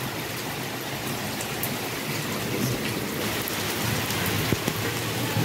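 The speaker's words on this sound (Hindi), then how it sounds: "बहुत तेज़ी से बारिश हो रही है, बहुत तेज़ बारिश हो गई अचानक में" Heavy, sudden rain falls steadily in Lucknow and is heard from a rooftop as a dense, loud, continuous wash with no voices over it.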